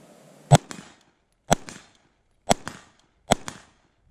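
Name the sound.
suppressed rifle gunshots, LMT SBR with Hux suppressor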